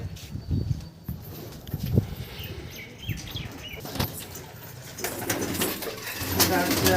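An old male Zirya tournament pigeon and others coo quietly in a loft amid shuffling and rustling, with voices talking nearby.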